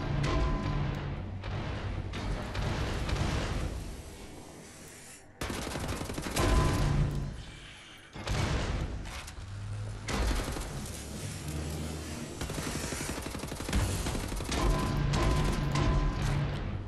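Heavy gunfire in the shooter Wolfenstein: The New Order, loud dense bursts of shots and booms with short lulls, continuous and chaotic, with no talk over it.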